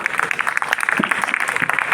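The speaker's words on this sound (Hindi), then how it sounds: "और उन्हें एक भाई ताली बजा दो" Students at a 12th class school farewell clap for their teachers, producing dense, steady applause from a crowd across the whole stretch.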